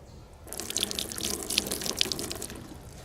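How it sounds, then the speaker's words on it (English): Water pours steadily onto a water-resistant modular tool roll, a continuous splashing, trickling stream lasting a few seconds, close and fairly loud with no talking. "right here is where the water was being poured"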